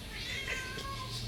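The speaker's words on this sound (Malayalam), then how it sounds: "അയ്യോ വേറൊരു പൂച്ചയുണ്ട്" A cat at an ancestral family home gives a drawn-out meow, close and clear, with no one talking over it.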